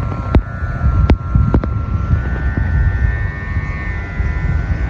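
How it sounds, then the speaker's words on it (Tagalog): Strong wind buffets the microphone in steady, roaring gusts outdoors while kites are flown, with a few sharp knocks near the start and no talking. "Lakas ng hangin guys, oh."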